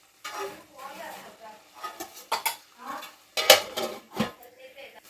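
A spoon scrapes and clinks repeatedly against a pan while egg curry is stirred, irregular metallic knocks with a few sharp louder strikes, close by.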